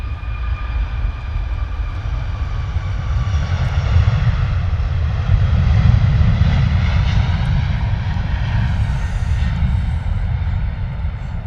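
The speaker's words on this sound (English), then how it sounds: "Ryanair 712 out the door. Off to Aarhus." A Ryanair jet departing London Stansted for Aarhus, its engines producing a sustained heavy roar with whining tonal bands that swell slightly mid-way, close and loud with no voices over it.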